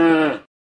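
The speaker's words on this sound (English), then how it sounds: "Cow." A single cow moo, loud and close, with a rich harmonic tone that fades out after about half a second, followed by silence.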